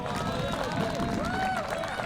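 A spectator cheers in the background at a disc golf championship round, a faint, continuous crowd-like voice sitting low beneath steady ambient outdoor noise throughout the clip.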